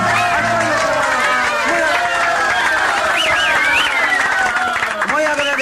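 Applause from a live audience at a Peruvian street comedy and poetry show, a steady wash of clapping that runs the whole way through, with cheering voices and calls rising above it.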